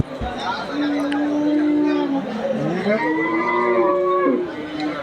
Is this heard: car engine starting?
no